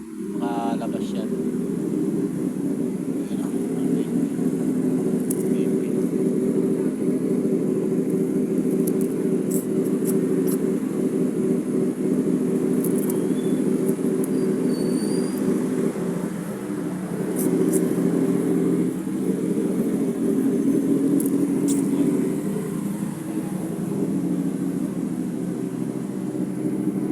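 Cars and motorcycles idle and move in and out through a gate, producing a continuous, fairly loud engine rumble with occasional revs, while people talk nearby throughout.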